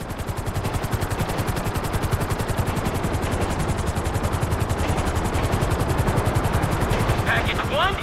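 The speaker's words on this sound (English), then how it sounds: "There's two choppers coming toward my train." Two helicopters approach in Grand Theft Auto 5, their rotors a loud, steady, rapid chopping that fills the scene without letup, with a faint rising whistle near the end.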